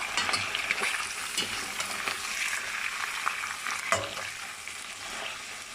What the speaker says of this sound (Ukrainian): тут у мене запечатується м'ясо